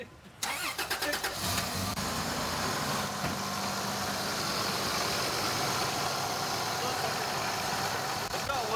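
A Lexus LX 450 engine cranks and catches with a sharp start, then settles into a steady mid-pitched idle with a slight whine, close and continuous as people talk.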